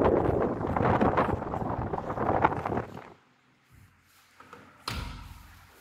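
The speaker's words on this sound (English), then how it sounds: "you can also hear the sound of wind" Strong wind buffets the microphone by a duplex flat window in Salt Lake, Kolkata, a loud continuous rush for about three seconds, then quieter gusts and a thump near the end.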